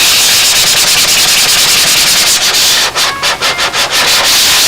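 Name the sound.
sanding fuselage seams with a sanding block and 320 paper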